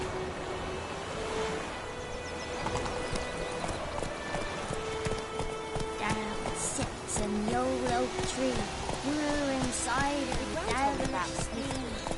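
Hooves of the horse Roach clip-clop steadily in The Witcher 3, with occasional neighs and bird calls, while voices talk over the top.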